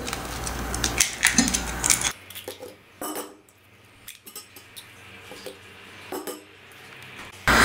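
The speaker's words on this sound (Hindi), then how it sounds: "एक प्याले में तीन अंडे तोड़ लेंगे।" Eggs cracked into a bowl, three in all, giving a few crisp clinks and taps against the rim among soft kitchen handling noises, close and fairly loud, with no talking.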